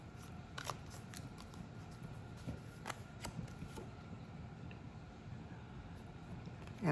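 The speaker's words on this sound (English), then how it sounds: "And do a quick shuffle here." Soft, repeated riffling and snapping of cards being shuffled, quiet and close, over a low background hum with no talking.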